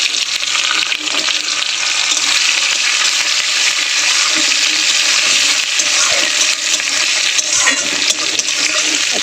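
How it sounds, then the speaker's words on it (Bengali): Onion frying in hot oil in a kadai with panch phoron tempering, a loud, steady close sizzle with bright crackling spatters throughout and occasional stirring scrapes, no talking. "ওর মধ্যেই দিয়ে দেবো একটু পেঁয়াজ ফোড়ন।"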